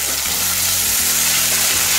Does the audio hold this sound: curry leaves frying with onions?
yes